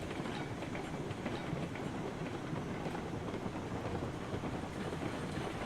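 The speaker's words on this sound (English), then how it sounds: "Train is definitely moving." A train in the RailRoads Online video game rolls along the rails with a steady rumbling roar and faint clickety-clack, continuous and fairly loud, with no voices.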